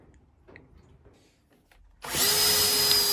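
A power drill bores a hole into wood for a circle-cutting jig: after a couple of seconds of quiet bumps and handling, the motor starts abruptly and whines loudly and steadily to the end.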